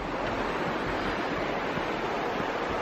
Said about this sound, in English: Such a cool little bridge and an awesome waterfall.